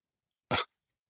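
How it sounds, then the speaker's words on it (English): A single short dog bark sounds once from the background, brief and fairly muffled, with silence before and after. "Just in case you can't hear the dog barking."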